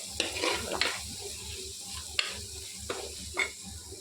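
Onions, chopped coconut and spices fry for a beef curry, a soft sizzle under repeated scraping strokes of a spoon stirring the pan, close and fairly quiet.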